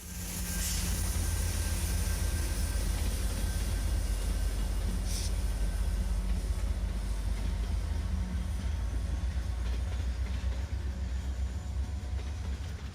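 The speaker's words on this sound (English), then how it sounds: "Here's what was A770 and now L729 crossing the interlocking at the Cordele Rail Park in March of this year, with 2 GE rebuilds sandwiching an EMD rebuild." A CSX freight train led by two rebuilt GE locomotives sandwiching a rebuilt EMD unit rolls across a rail interlocking, a steady, loud low rumble of engines and wheels on track sustained throughout, with brief higher clanks and squeals.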